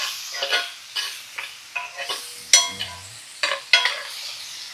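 Rosemary sprigs and roasted garlic cloves sizzle in butter in a cast iron pan, a steady frying hiss broken by repeated scraping stirs and clinks of a utensil against the pan.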